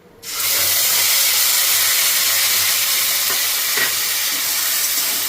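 Tomato paste from a medium tomato poured into a hot oiled pan: after a brief quiet moment a loud, sudden sizzle bursts up and holds as a dense steady hiss, with a couple of faint utensil clicks.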